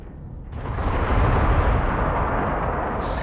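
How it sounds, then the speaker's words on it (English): Deep rumbling blast in an underground ruin in Dragon Age Inquisition, a sudden loud onset followed by a sustained roaring, crumbling wash that stays heavy throughout. "Setting off explosions in an underground ruin."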